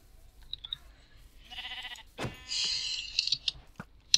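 Minecraft sheep bleat several times in short, nasal cries, fairly close, with small clicks and game sounds between them and no talk.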